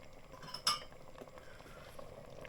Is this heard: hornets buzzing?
no